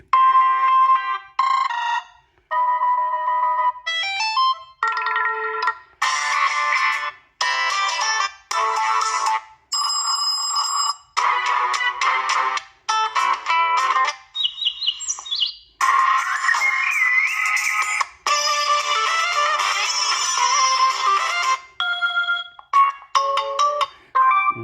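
The emporia TOUCHsmart.3 phone plays a long run of different ringtones one after another, bright melodic chimes, flute-like tunes and birdsong-style chirps, with short gaps between them and no voices.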